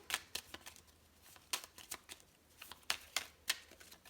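Tarot cards being shuffled, heard as a quiet run of papery riffles and soft flicks in irregular bursts, close and otherwise alone with no talking.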